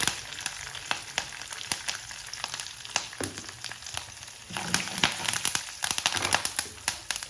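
Dried red chillies and curry leaves sizzle and crackle in hot oil while tempering for karamani sundal, a steady frying hiss with dense popping that grows louder and busier toward the end.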